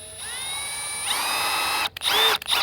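A Milwaukee M12 Fuel Gen 2 hammer drill with a half-inch spade bit runs with a steady high whine, rising in pitch after about a second, then cuts out and briefly restarts near the end.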